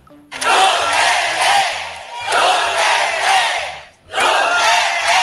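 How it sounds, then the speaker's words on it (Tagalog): A crowd of Maisog movement rally attendees roars and shouts in loud, sustained bursts, swelling and dipping twice before surging again, with music playing faintly underneath. "Wala pa rin kupas ang hiyawan at pagiging aktibo ng attendees ng Maisog."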